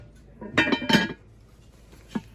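A 26 cm metal cooking pot clanks and clinks as it is picked up and set down, a few close, sharp knocks followed by one quieter tap.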